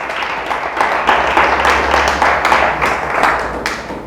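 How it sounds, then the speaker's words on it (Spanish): A church congregation claps loudly and steadily, a dense, sustained round of applause with no talking over it. "Le damos un fuerte aplauso a Dios."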